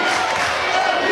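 A dense, steady roar from a large crowd cheering at a college softball super regional game in a stadium, a continuous wash of voices with no distinct breaks.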